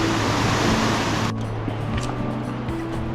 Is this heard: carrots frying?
no